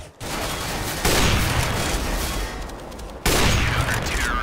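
Sustained automatic gunfire in CS:GO from a Negev machine gun, dense continuous loud bursts that swell and pause briefly before resuming, close and heavy, with no voices.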